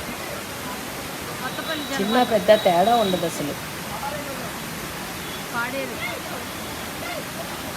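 Kothapalli waterfall near Paderu, a steady broad roar of rushing water filling the whole clip, loud and near, with a person talking briefly over it in the middle.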